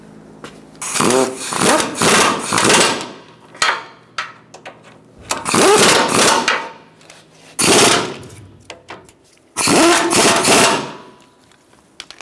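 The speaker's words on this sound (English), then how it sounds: "now we're going to tighten up the 4 bolts on this side and tighten up the 4 bolts on the other side" Bolts being tightened on the cooling fan assembly of a 2012-2017 Hyundai Accent, heard as loud bursts of rapid mechanical rattling from a power tool, several separate runs with pauses between them, with no talk.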